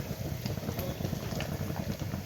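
Ghee melting in a pan makes a soft, continuous low bubbling and simmering, close by and without speech.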